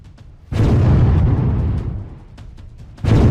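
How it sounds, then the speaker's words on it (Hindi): A large explosion from a rocket hitting the ground in an air strike, a sudden loud broadband blast with a deep rumbling roar that fades, followed by a second heavy burst. "जैसे ही रॉकेट आया जमीन पर गिरा, बहुत बड़ा विस्फोट हुआ।"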